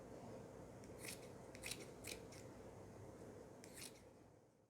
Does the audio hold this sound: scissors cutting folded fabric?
yes